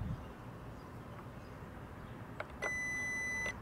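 A continuity tester beeps while a car's 120 amp block fuse is checked, sounding as one steady, close electronic tone of about a second after a couple of brief clicks, in a quiet room.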